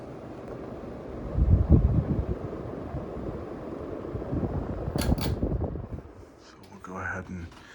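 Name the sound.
ceiling fan running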